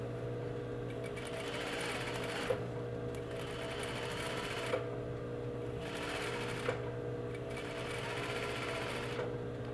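Sewing machine stitching a back stitch on a western-style pocket, a close steady mechanical whir that runs in bursts, pausing briefly between runs with small clicks as stitching reverses.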